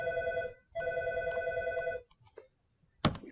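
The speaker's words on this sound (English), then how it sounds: "We pause while that phone stops ringing" A telephone rings nearby in a kitchen during a baking session, two long steady electronic rings followed by a few faint clicks and a sharp knock.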